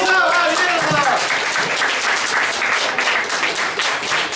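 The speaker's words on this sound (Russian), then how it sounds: "Ну, аплодисменты бурные, яркие." Loud, lively audience applause at a poetry reading in a rock cafe: a voice trails off at the start, then dense, sustained clapping fills the room at full volume.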